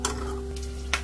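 Peanuts frying in oil in a pan, a faint continuous sizzle under a low hum, with two brief crackling bursts, one at the start and one near the end.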